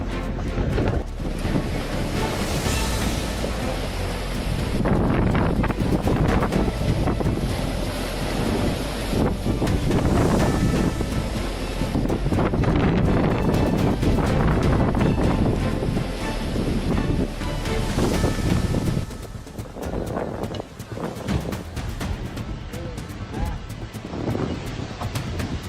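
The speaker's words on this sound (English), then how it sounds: "a storm brought in raging waves that smashed boats against the shore" Storm waves crash against the shore in Greece, smashing boats, with a continuous loud roar of surf and heavy wind buffeting the microphone that eases slightly near the end.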